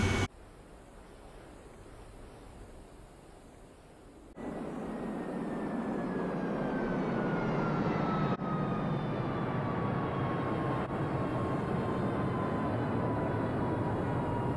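A steady aircraft engine drones from inside the cockpit in the DCS flight simulator game, a constant broad roar that steps up louder partway through, with a high whine slowly falling in pitch; no talking.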